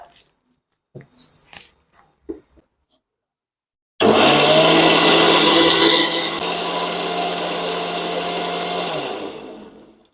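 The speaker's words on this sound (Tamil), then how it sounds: "தேங்காவை அரைச்சி எடுத்தாச்சுங்க" After a few seconds of scattered talk and clatter, a blender grinding coconut starts abruptly and grinds loudly and steadily, its pitch shifting slightly, before winding down.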